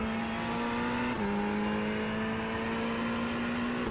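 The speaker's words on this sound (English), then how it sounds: "braking down from 6th gear to 1st gear just after the white line on the floor" Ferrari GT3 race car engine at Spa-Francorchamps in a racing game, a steady close engine whine with one abrupt pitch step partway through.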